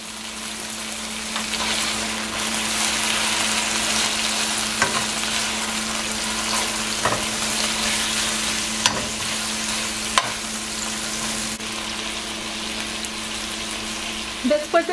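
Garlic frying in a pan, a steady close sizzle with occasional clicks and scrapes of stirring, continuous throughout, with no talk.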